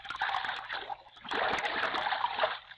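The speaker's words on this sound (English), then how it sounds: "bringing their big dugout back across the river and hiding it in the overhanging bushes" A big dugout canoe paddled across a river, giving two stretches of close, splashy water churning and dripping strokes with a short lull between them.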